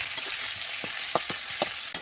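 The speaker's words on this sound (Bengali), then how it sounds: "তারপর নেড়ে দেব আলুটা কষা হয়ে গেছে আমি ওরই সঙ্গে ওইগুলোই কষে নেব" Potatoes fry in hot oil in a kadai, giving a continuous bright sizzle while a spatula scrapes and knocks against the pan in several short, uneven strokes, close up.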